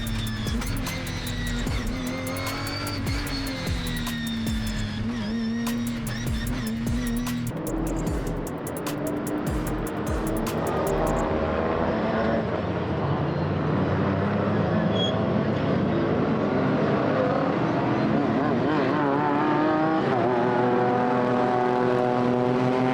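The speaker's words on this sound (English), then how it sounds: "As the Britcar pack came through to take their start, Nick was tucked up behind the BMW" Britcar race cars roar away at the start at Spa Francorchamps, a dense, loud wall of engine noise from a passing pack, with rising revs and sustained pitch sweeps as cars accelerate toward the first corner.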